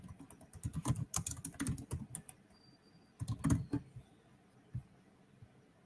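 Keys on a computer keyboard clatter as a name is typed, coming in two quick flurries of close, crisp taps separated by a pause, with a few stray clicks near the end.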